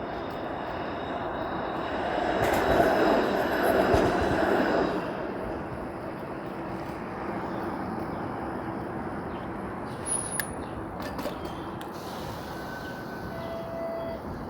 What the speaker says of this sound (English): And I have caught up to this streetcar.